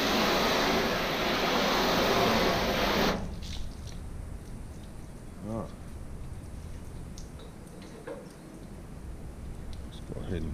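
Water sheets off a flat car panel treated with a ceramic wax spray, a broad wet rushing wash for the first three seconds, then quieter handling and faint rubbing with brief bumps.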